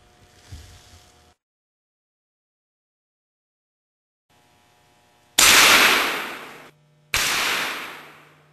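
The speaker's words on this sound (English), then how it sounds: "At first it didn't look like the bullet went through the glasses" Two sharp, loud gunshots fired at safety glasses on an NRA shooting range, each blast followed by a decaying ring, with a faint muffled knock before them.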